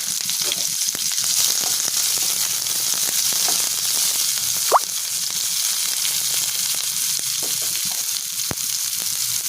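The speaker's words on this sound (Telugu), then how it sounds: "ఉల్లిపాయలతో బాగా ఫ్రై అయింది" Spices and chopped onions fry in hot oil in a pan for ridge gourd curry, a steady close sizzle crackling throughout with a brief sharper spurt midway.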